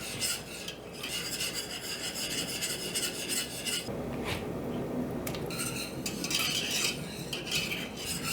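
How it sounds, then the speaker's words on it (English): Butter and flour paste being whisked into gravy in a pan, a steady rasping, scraping stir with metallic utensil scrapes against the pot, close and continuous, with no talking. "just slowly start adding in little bits of your butter paste and mixing them in"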